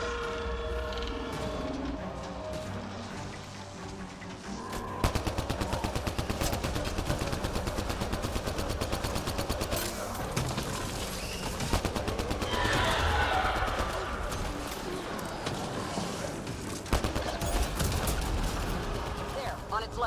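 Video game gunfire comes as dense, sustained automatic bursts, loud and continuous over a noisy, rumbling battle backdrop, with a player talking intermittently over it.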